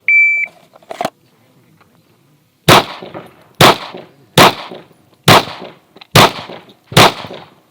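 Six loud, close gunshots ring out at a roughly even pace during a lateral Bill Drill on a shooting range, preceded by a brief electronic start beep and a faint click.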